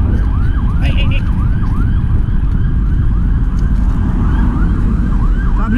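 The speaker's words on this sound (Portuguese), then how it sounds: "Civil tá vindo ali atrás, Polícia Civil." A Polícia Civil car siren wailing in a cycling yelp as it pushes through stopped Rio de Janeiro traffic, loud and close over a rumble of engines.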